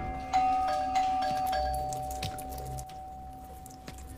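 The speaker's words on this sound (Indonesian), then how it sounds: "terdengar suara bel yang terus-terusan berbunyi" A doorbell chimes again and again indoors, with short tonal rings recurring over a low background hum and some faint shuffling, no talk.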